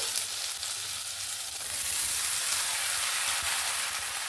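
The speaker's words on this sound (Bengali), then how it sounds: "এবার আমি এখানে লাউটা দিয়ে দেবো" Chunks of bottle gourd hit potatoes already frying in spiced oil, giving a loud, steady, hissing sizzle that swells slightly partway through and carries on without talk.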